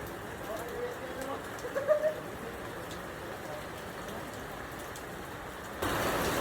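Steady rain falls outdoors as a constant soft hiss with scattered drop patter, fairly faint, with brief louder spots and a denser wash near the end.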